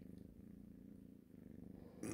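A kitten purrs softly and close in a steady rhythmic rumble, very quiet, ending with a brief louder rustle.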